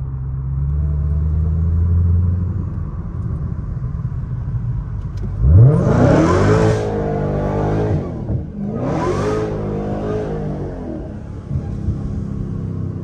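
Inside a car crawling through slow highway traffic, a steady low road rumble fills the cabin, and midway one engine rev climbs sharply before easing off, then a second rise follows.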